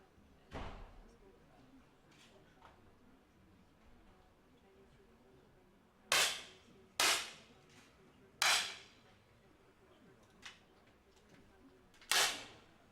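Sharp 10 m air pistol shots ring out at a women's World Cup competition in Munich, about five crisp cracks spaced a second or more apart over a quiet hall murmur.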